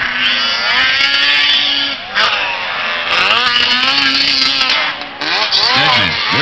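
Ski-Doo snowmobiles race around a rough track, engines revving and whining loudly in overlapping passes with pitch sweeps as the machines accelerate and go by, an announcer talking over the roar.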